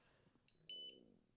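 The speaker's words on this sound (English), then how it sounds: "that beep you heard was just the power bank turning on" A power bank beeps as it switches on, a short pair of faint electronic tones in a quiet room.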